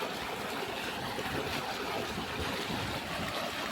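Irrigation water flows across a farm field in a steady, close rushing wash that holds an even level throughout, with no voices.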